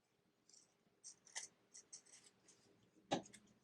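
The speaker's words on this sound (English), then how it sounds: "I'm going to go ahead and trim these as I go to make sure that I can easily cut them away." Scissors snip felt strips for a craft, making a sparse series of short, quiet cutting clicks and rustles, closely miked.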